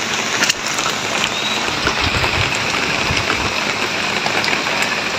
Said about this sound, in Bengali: দেখেন অজর ধারা বৃষ্টি।